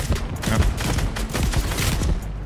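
Gunfire in a Fortnite Reload ranked match: a dense, rapid fusillade of overlapping shots, loud and continuous for over two seconds, with no talking.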